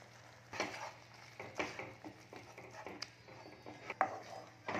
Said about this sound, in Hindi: अब इसके अंदर हमने जो पनीर डाल कद्दूकस करके रखा था उसको